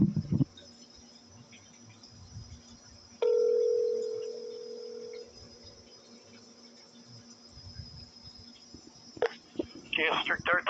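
A telephone receiver's steady dial tone holds for about two seconds before fading into a low line hum, placed as a call to the police, with faint clicks and rustling before and after.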